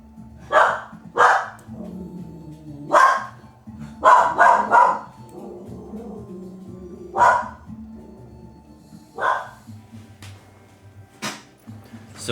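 A dog barks repeatedly in loud, sharp bursts, some single and some in quick clusters, spread irregularly over about twelve seconds, with quieter yips and low growl-like sounds between them.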